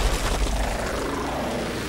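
An airplane roars overhead in the Call of Duty Modern Warfare 3 video game, a loud, steady engine drone with low rumble that holds throughout without any talking.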